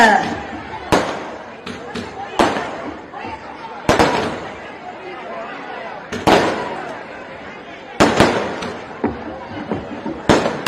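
Firecrackers bursting in sharp, loud cracks at irregular intervals, some in quick clusters, over a steady background of crowd chatter and talk at an election victory celebration in South Chennai.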